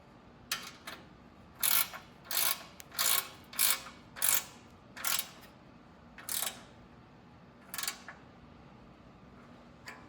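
A ratchet tightens bolts on a 1967 Schwinn Typhoon bicycle, giving bursts of close, crisp clicking, about a dozen strokes in an uneven rhythm with short pauses, over a quiet background.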